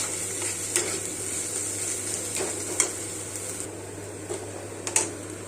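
Onions frying in a home kitchen pan for an egg dish, a constant soft sizzle with a low steady hum beneath and a few sharp utensil clicks scattered across.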